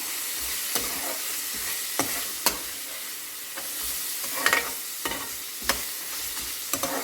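Food fries in a pan with a steady sizzle, broken every second or so by sharp scraping clicks of a stirring utensil; close and alone, with no talking.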